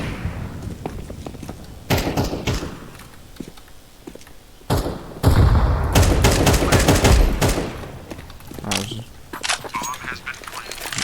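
Sharp gunshots crack out in scattered bursts amid busy CS2 game noise, with some strange squawking sounds mixed in between the shots.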